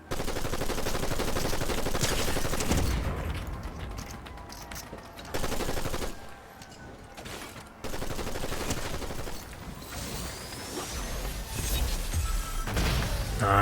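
In a Fortnite match, bursts of rapid gunfire come loud and close and break off into short quieter gaps before the shooting picks up again, with no talking.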